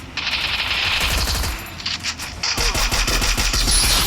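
Rapid automatic gunfire in a video game, loud close bursts of fast repeated shots that pause briefly and then resume, with faint voices in the background.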